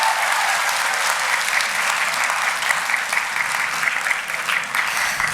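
Steady, dense applause from an audience at a youth event on peace and harmony, loud and sustained throughout with no pauses.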